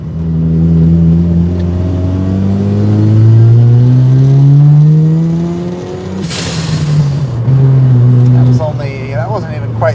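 A Mazda RX7 FC running about 13 psi of boost pulls hard in third gear up a small hill, its rotary engine note climbing loud and close before easing off, followed by clattering and shifting noises.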